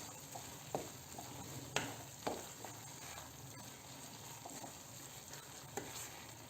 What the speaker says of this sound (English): Once you add the sugar, you have to just keep on stirring.